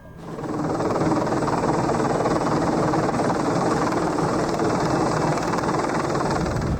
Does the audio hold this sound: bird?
no